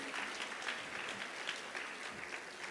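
An audience at a women's health and wellness event gives a warm, even round of applause, steady and moderately distant for a few seconds.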